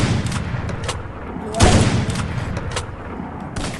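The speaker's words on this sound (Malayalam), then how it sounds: "നമുക്കൊരു ഹെഡ് ഷോട്ട് അങ്ങ് കൊടുത്തേക്കാം." Free Fire mobile game gunfire comes as sharp bursts, spaced shots with one heavier blast in the middle, loud and near, over a busy rumbling game background.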